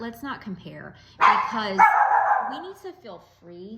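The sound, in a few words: dog barking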